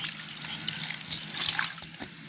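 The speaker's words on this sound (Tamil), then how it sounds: "தண்ணி கொஞ்சம் விடுவோமே" Water splashes and trickles into a large cooking pot in a village setting, a close, uneven, bubbling pour that swells in the middle and then thins into drips.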